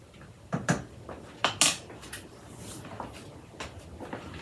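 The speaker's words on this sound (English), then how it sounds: "And give this a stir." A metal utensil knocking and scraping in a pot of chicken pho being stirred, a few sharp clinks close by followed by softer, scattered taps.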